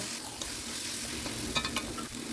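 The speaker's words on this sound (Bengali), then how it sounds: "মশলাটা কষানো হয়ে গেলে আমি ভেজে রাখা আলুগুলো দিয়ে দেব আলুগুলো দেওয়ার পর আরও কিছুক্ষণ কষাবো" Fried potatoes sauté in spice paste for Bengali mochar ghonto with a dense, steady sizzle close by, a few soft spatula scrapes, and no talking.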